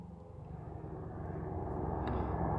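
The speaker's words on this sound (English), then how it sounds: "I can hear a helicopter coming" A helicopter flies far off over a remote hiking area, its low engine drone faint at first and slowly growing louder as it approaches, with no talking.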